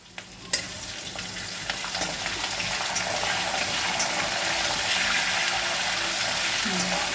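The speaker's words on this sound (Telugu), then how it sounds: "నెక్స్ట్ నేను కాజు వేస్తున్నాను, కొంచెం ఫ్రై చేద్దాం" Cashews fry in hot oil in a pan with curry leaves, a loud continuous sizzle and crackle that swells after a brief quieter start, with a few small clinks.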